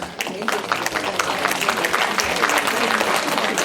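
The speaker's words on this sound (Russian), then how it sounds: "Аплодисменты, значит, одобрение." Sustained applause from a meeting audience gathered for a community association celebration, dense and steady throughout with no pauses.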